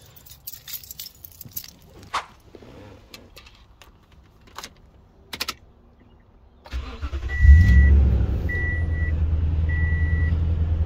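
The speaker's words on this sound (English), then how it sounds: "now to turn the truck on so I can show you guys what happens" A second-generation Toyota Tundra pickup is started after some key jangling and handling noise: a brief starter crank, then a loud, steady engine idle with repeated electronic chimes from the parking assist system.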